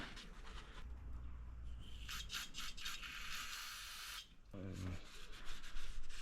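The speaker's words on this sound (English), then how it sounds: "Go ahead and clean this surface right there." A rag scrubbing and wiping a metal surface during a Monster Triple S clutch and billet steel flywheel install on a 2018 Chevrolet Camaro, heard as close, steady rubbing strokes with a few brief pauses and no talking.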